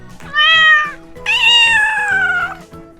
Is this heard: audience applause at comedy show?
no